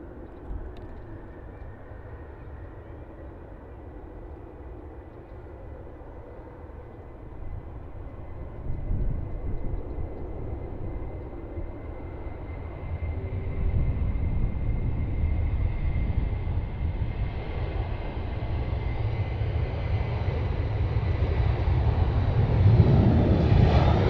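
A Jet2 airliner rolls for takeoff at Stansted, a broad engine roar that starts distant and swells steadily louder over about twenty seconds, with no talk.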